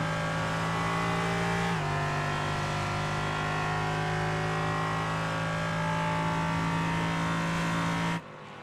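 Race cars in a sim racing esports event at Mid-Ohio Sports Car Course drone with a steady, sustained high engine whine that shifts pitch once and then cuts off sharply near the end.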